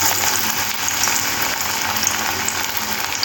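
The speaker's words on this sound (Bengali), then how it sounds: "তেলটাও খুব ভালো গরম হয়ে গেছে এইবারে এই পকোড়াগুলো দিয়ে দেব" Spinach and prawn pakoras fry in hot white oil, giving a loud, dense, continuous sizzle close to the pan that holds steady throughout.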